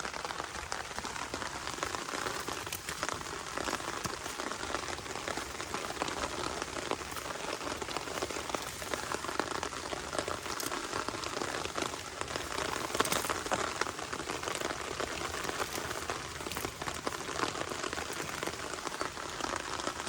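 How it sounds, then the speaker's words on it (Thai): Steady rain falls on a surface outdoors, a dense, even hiss of countless drops that runs unbroken at constant loudness with no voices. "มื้อนี้ฝนตก"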